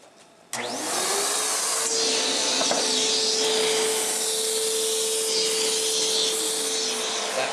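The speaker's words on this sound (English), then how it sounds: "You need to vacuum out the inside of here because that is contaminated." Vacuum cleaner switching on and running steadily to clean out the contaminated inside of another vacuum, a loud continuous motor whine with airflow rush and occasional rubbing scrapes as the nozzle moves.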